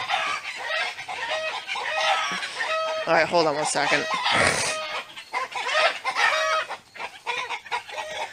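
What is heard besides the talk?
backyard chickens making an alarm noise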